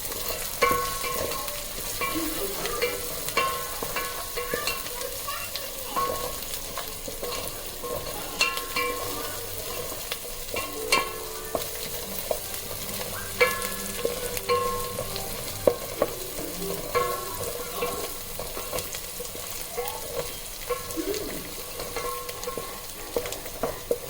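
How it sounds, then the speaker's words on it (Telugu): Onions frying in oil for mint pulao, stirred until golden, giving a continuous dense sizzle with frequent scraping spoon strokes against the pan, close and steady throughout with no talking. "ఇది వేగేదాకా ఎరగొచ్చేదాకా తిప్పాలి బాగా."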